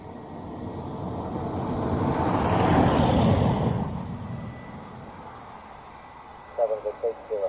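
A Boeing 757 takes off at Dublin Airport, its jet roar swelling to a loud peak and then fading into a distant rumble, with a few short voice-like bursts near the end.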